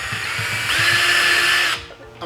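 A power drill drives a screw through a back plate into a sliding pot and pan organizer, with a loud whine that rises in pitch for about a second and then stops.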